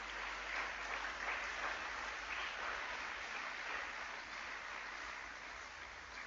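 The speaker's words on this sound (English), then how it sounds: "Let's clap for Professor again." An audience at a university sociology anniversary lecture applauds a professor with a steady wash of clapping that holds evenly and slowly eases off toward the end, sounding somewhat distant and muffled.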